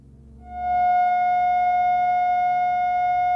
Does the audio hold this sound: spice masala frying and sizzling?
no